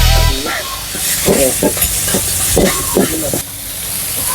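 Ground pork stir-fried in a wok at a Thai made-to-order food stall: a loud, steady sizzle and hiss with scraping stirs, and a voice speaking over it at moments.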